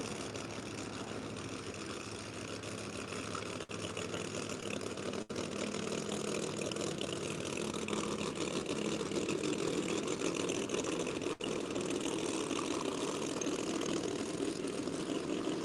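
At a no-prep drag racing track, a race car engine idles in a steady loud drone that stays continuous, with only brief dropouts and no talking.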